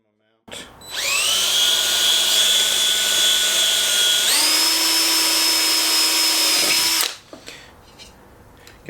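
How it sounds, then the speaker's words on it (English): A power drill whines loudly for about six seconds drilling pilot holes for a motorcycle tail light mount, its pitch shifting partway through, then stops abruptly. "that drill is not going to go through far enough"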